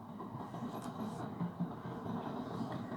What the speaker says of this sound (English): I apologize for the trains